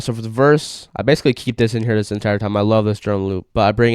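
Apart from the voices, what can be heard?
No distinct noise like a dog, phone or traffic.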